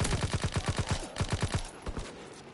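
Rapid bursts of gunfire from Call of Duty WWII, roughly a dozen loud, evenly spaced shots in quick succession before tapering into fainter pops and trailing noise.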